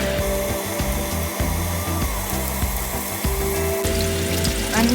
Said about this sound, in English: So let's start cooking, sauteing.